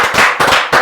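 A studio audience breaks into loud, close applause in short dense bursts of clapping lasting under a second, with no voices heard.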